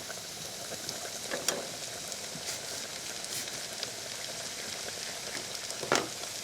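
Steady sizzling of peppers frying in a pan, with occasional soft clinks and stirring sounds, no talking.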